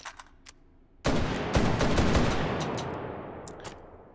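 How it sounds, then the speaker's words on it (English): In the VR shooter Hot Dogs, Horseshoes & Hand Grenades, a revolver shotgun fires a sudden loud blast with a few rapid follow-up cracks and a long decaying tail, after some faint mechanical clicks. "So now this is my preferred revolver shotgun, since it's break action."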